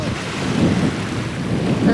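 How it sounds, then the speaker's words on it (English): Strong wind gusts buffet the microphone on a seaside fishing shore at Sandstone Point, a steady low rushing roar swelling in brief surges, with no clear talk. "It's very windy."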